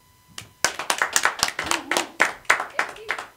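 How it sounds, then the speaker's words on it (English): A small audience on a stage show gives a guest a round of applause, with distinct, irregular claps close by and a voice murmuring underneath. "Give Steve a round of applause."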